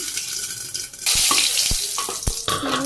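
Curry hits hot oil with mustard seeds in a pan, bursting into a loud, close, hissing sizzle that carries on steadily, broken by a few sharp utensil knocks and scrapes.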